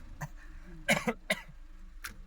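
A few short, throaty coughs close by, coming in quick bursts with a small one after a pause.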